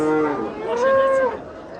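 A cow at a livestock market lets out one drawn-out, close moo that rises and then tails off, with faint market noise around it.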